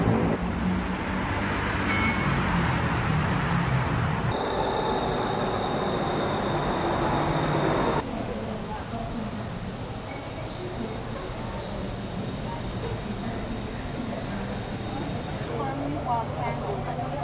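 Inside a moving BTS Skytrain carriage in Bangkok: a steady rumble of wheels and motors, with shifts in tone as it travels, and occasional voices nearby.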